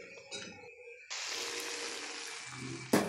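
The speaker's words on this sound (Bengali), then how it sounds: "আমি একটা কড়াইতে পেঁয়াজ, শুকনো কয়েকটা তেজপাতা আর এলাচ দিয়ে ভালো করে নেড়ে ছেড়ে ফোড়নটা" Onion, dry bay leaves and cardamom hit hot oil in a kadai with a sudden loud, steady sizzle, preceded by quieter kitchen clatter and ending with a sharp clang.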